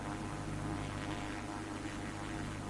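Airplane engine drone in a mobile video game, a steady broadband roar that fills the short moment at moderate level with no speech.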